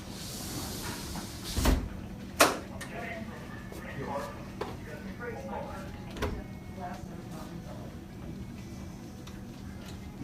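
A Charley-BAR security bar on a patio door is lifted into its self-storing position, giving a sharp metallic clack and a second knock among quieter rattles and clicks, close and clear in a quiet room.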